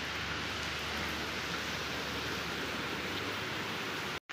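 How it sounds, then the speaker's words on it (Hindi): Heavy rain pouring down outdoors near a temple, a dense, continuous broadband roar of falling water that stays loud and even, with no speech, until a brief drop-out at the very end. "बारिश हो रही है तेज़ बारिश होने लगी"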